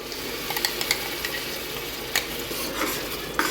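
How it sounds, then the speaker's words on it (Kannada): Ground masala paste frying in oil in a pan for chicken biryani, a steady sizzle broken by scattered scraping clinks of a spatula stirring against the pan, close and without voices. "ಇದು ಮಸಾಲೆ ಎಣ್ಣೆ ಬಿಡೋ ತನಕ ಫ್ರೈ ಮಾಡ್ಕೋಬೇಕಾಗುತ್ತೆ"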